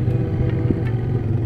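A Vento Crossover 250 motorcycle on a test ride, its engine holding a steady, low droning note close by, with wind and road noise and no talk.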